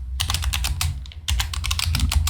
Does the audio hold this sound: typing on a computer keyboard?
yes